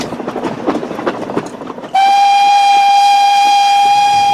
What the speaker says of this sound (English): This is the most fantastic train, isn't it?